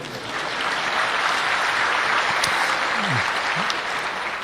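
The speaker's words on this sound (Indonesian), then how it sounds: "Kita berikan tepuk tangan dulu ya." Sustained audience applause at a religious lecture by an Islamic preacher, a dense steady wash of many hands clapping at even loudness throughout, with no speech over it.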